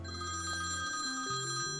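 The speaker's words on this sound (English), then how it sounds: "An incoming phone call comes from the forgotten Balkans." A telephone rings with an incoming call, a steady electronic ringing tone under a low droning musical background, with no voices.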